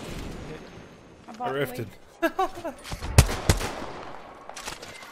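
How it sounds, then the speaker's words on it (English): Shotgun blasts in Apex Legends crack out as several sharp, loud bangs in the second half, mixed in with players talking excitedly. "This shotgun's garbage."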